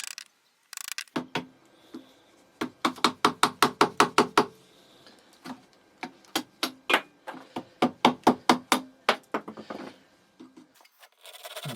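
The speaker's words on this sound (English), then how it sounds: "We start by cutting out the mortises on the legs." A mallet drives a chisel to cut mortises in wooden table legs: two long runs of sharp, evenly spaced wooden knocks, close and loud, separated by brief pauses.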